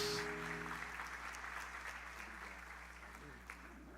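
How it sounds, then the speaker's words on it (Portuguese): A church congregation applauds in praise for their pastor, a steady wash of clapping at moderate distance with a low hum beneath and no voices over it. "Você pode aplaudir ao Senhor pela vida do pastor Daniel Regis."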